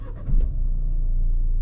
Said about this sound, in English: Now let me start the engine.